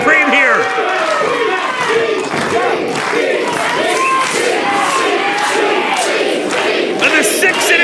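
A wrestling match crowd at an Elks Lodge in Barre cheers and shouts loudly and continuously, with overlapping voices, whoops and yells forming a dense, sustained roar throughout.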